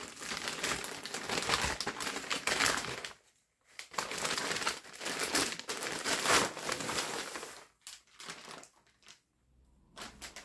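A wrapped gift package, likely holding fabric, is carefully unwrapped, giving loud bursts of crinkling and tearing paper separated by short quiet pauses, with no talking.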